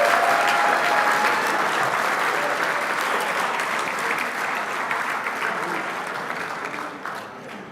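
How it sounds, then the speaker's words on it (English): Loud, sustained applause from a banquet audience at an RC racing world championship awards ceremony, dense steady clapping throughout that gradually tapers off toward the end. "Make sure that applause is loud and proud."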